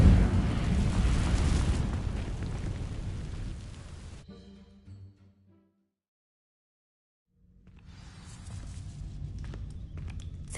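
The Incendio fire spell cast in Hogwarts Legacy to ignite dry vines, bursting out as a loud roaring whoosh that fades over several seconds into near silence before low ambient rumble returns. No one speaks.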